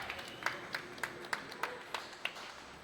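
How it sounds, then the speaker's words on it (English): Applause from a small crowd at a pinball city championship final as a player finishes his third ball, heard as a rhythmic run of distinct claps spaced about every quarter second, moderately quiet, over a faint room murmur. "Round of applause for Andre as he walks away from that ball 3"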